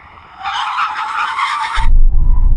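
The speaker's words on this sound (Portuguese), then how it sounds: "Ai do céu, derrapou foi tudo." A tuned BMW M340i-type sedan skids under hard braking, a loud sustained tire screech lasting over a second, then giving way to low engine rumble and road noise, with no talk.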